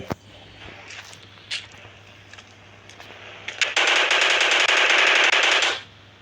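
Video game gunfire: a few scattered single shots and clicks, then a sustained, loud automatic burst lasting about two seconds before it cuts off.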